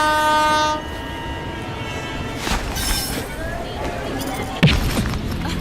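A passenger train runs past with a loud horn blast at the start, then a steady rumble of wheels on rails with a sharp clank near the end.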